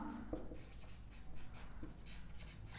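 Pen scratching across paper while working through a simultaneous-equations problem, soft continuous strokes with a couple of sharper taps, close and fairly quiet with no voice.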